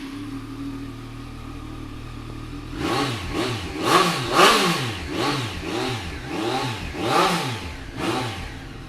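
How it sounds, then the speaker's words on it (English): Triumph Street Triple 765 RS motorcycle from 2017 with an Arrow exhaust, quiet at first, then starting up and blipped through a series of sharp revs, rising and falling close by. "let's give it a quick start up so you can hear it"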